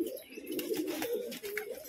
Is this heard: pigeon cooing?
yes